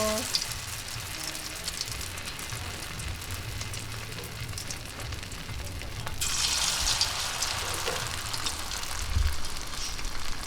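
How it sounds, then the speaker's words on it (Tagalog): Steady crackling sizzle of chicken seaweed rolls frying in hot oil, continuous and fairly close, growing a little brighter and louder partway through. "Ayan, sabay prito."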